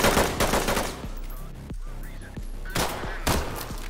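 Gunfire in the tactical shooter Ready Or Not, with rapid automatic bursts and single sharp shots that are loud and close, spread across four seconds with short gaps between volleys.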